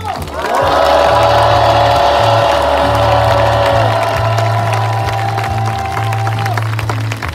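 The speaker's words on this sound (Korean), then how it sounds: "큰 함성과 박수 보내주십시오" A large crowd at a street memorial rally for Aricell disaster victims roars and applauds in a loud, sustained wave of cheering and clapping, with a shouted voice riding over it.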